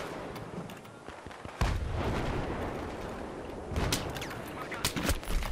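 Gunfire in Battlefield 3 multiplayer: loud, dense bursts of shots and blasts that rattle on continuously, with sharp cracks standing out near the end.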